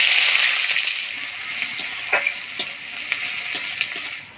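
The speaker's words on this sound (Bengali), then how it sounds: "এবার দিয়ে দেবো কুচিয়ে রাখা পেঁয়াজ।" Chopped onions sizzling in hot oil with black cumin seeds as the base for a fish curry, a steady loud frying hiss with a few pops and stirring clinks, no talk.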